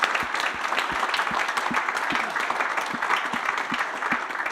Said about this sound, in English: a big applause for them again.